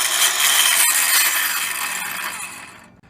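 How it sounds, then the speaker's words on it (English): A Craftsman table saw whirs loudly and steadily with broadband noise, then its motor winds down over a few seconds, fading away near the end. "You also notice that the Craftsman saw had to spin down"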